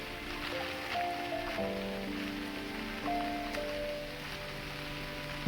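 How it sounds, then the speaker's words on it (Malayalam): Heavy rain pours down at the Chooralmala landslide area in Kerala, a steady, dense hiss that fills the whole clip, with faint sustained tones drifting underneath. "മഴയുടെ ശക്തി ഇപ്പോൾ വല്ലാതെ കൂടിക്കൊണ്ടേയിരിക്കുകയാണ്"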